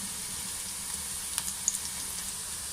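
Soft, steady sizzle of chana dal koftas frying in hot oil in a pan, a faint continuous hiss with a few small pops, heard close.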